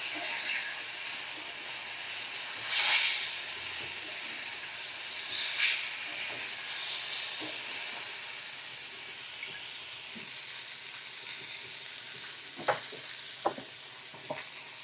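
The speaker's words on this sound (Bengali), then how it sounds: "এই যে কাশ্মীরি রেড চিলি পাউডার দিয়ে ভালো করে আমি কষিয়ে নেব" Vegetables and spices with Kashmiri red chili powder sizzle in a pan, a soft continuous hiss broken by occasional scraping stirs and a few sharp clinks near the end.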